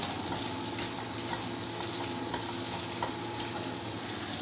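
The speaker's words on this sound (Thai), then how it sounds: "ผัดคนๆทำเหมือนไข่ขยี้ครับให้ไข่เซ็ตตัวพอประมาณครับ" Eggs being stir-fried and scrambled in a hot wok for a Thai stir-fry: a steady, close sizzle of oil runs throughout, with faint scraping and stirring clicks from the utensil and no talking.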